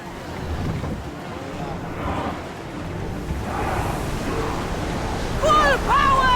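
A sailing ship moves at sea in Assassin's Creed Odyssey, with steady rushing wind and water noise throughout and a brief voice near the end.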